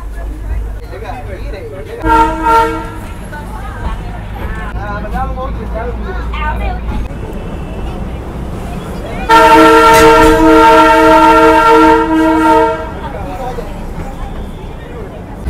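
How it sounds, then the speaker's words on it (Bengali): The Darjeeling toy train rolls along on its joy ride from Darjeeling toward Ghum, sounding a loud sustained horn for about three seconds after a shorter earlier toot, with voices and train noise throughout. "দেখো কেমন কেমন জায়গা দিয়ে এই টয় ট্রেন চলে।"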